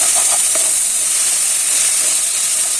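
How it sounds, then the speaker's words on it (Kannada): Chopped onions fry in a hot pan for chicken fry, giving a loud, steady, close sizzle with a dense hiss that holds evenly throughout and no voices. "ಈರುಳ್ಳಿ ಎಲ್ಲ ನೀಟಾಗಿ ಬೇಯಬೇಕು ಹಾಗಾಗಿ ನೀಟಾಗಿ ಫ್ರೈ ಆಗಬೇಕದು"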